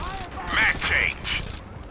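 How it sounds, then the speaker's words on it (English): Weapon magazine change during a reload in Rainbow Six Vegas, a quick run of clicking, ratcheting mechanical clacks at moderate level over a low background rumble, with faint voice-like tones in the mix. "Mag change."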